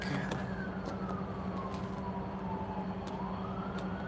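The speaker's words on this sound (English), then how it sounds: "Siren there in the background." A siren wails faintly in the distance by a railroad crossing, its pitch slowly falling and rising over a steady low rumble of outdoor noise.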